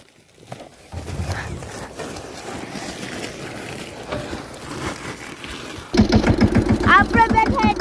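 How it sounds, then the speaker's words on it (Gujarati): A tractor engine runs with a low rumble beneath people talking, then grows louder into a heavy, rapid pulsing chug near the end. "આપણે બેઠા ટ્રેક્ટર ઉપર, ટ્રેક્ટર ઉછળે"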